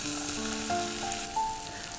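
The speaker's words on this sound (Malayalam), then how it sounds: "ഉപ്പിട്ടിട്ടൊന്ന് വഴറ്റി കൊടുക്കാം" Vegetables with salt sauté in a pan with a steady close sizzle, while a faint tonal whine drifts over the frying for a couple of seconds and no one speaks.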